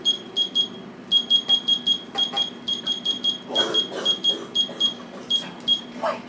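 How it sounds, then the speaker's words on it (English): A digital timer beeps rapidly in repeated short bursts, sharp and high-pitched, with a bit of clatter and movement in the background. "I'll set my timer."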